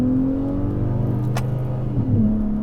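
A 2021 Ford F-150 Raptor's engine drones loudly from inside the cab, held in gear with pitch shifting and a brief rise near the end.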